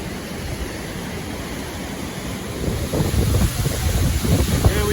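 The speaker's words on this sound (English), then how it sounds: "Here we are, the big waterfall." A big waterfall in Georgia roaring as a dense, steady broadband rush, close and loud, growing slightly stronger toward the end with some wind buffeting on the microphone, and no voices.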